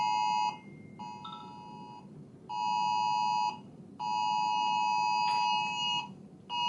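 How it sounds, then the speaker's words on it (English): An Amber Alert emergency alert blares from a phone, a loud harsh two-tone beeping repeated in three long bursts with brief gaps between them. "I turned the Amber Alerts back on my phone because of when the fires were around my house."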